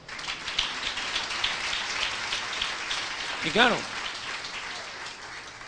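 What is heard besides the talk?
applause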